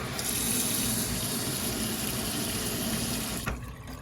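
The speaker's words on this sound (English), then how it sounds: "I like to rinse out the nib and the feed," Tap water runs steadily over an Aurora fountain pen nib and feed, a loud, close, continuous splashing stream that cuts off sharply near the end.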